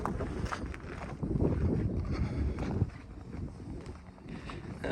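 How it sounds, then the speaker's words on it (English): Steady wind buffeting the microphone outdoors at a roofing job site, a low rumbling roar that swells and eases, with no talking. "A little bit windy out here."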